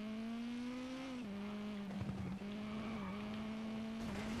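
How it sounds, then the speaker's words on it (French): A rally car engine in the WRC 9 video game drones loud and steady, its pitch dipping and climbing with gear changes, while brief tire skids scrape through the middle. "j'aime bien le bruit de moteur, il est vraiment bien fait."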